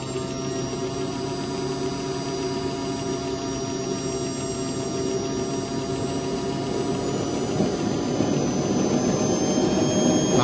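A Wren jet turbine engine starts up with a steady high-pitched whine and broadband roar over a low hum, gradually building in intensity and staying continuous and close, with no talk.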